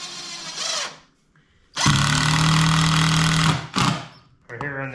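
A power driver whirs steadily for about two seconds, driving screws into factory holes on a wood carver's power strop, then gives a short second burst, with brief talk before and after.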